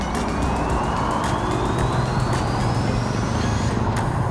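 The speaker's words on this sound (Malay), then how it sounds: "Oh, patut ada lori kat situ." A lorry rumbles past on a road during a predawn motorcycle ride, a dense, loud roar of engines and wind that holds steady throughout, with a faint rising whine running beneath it.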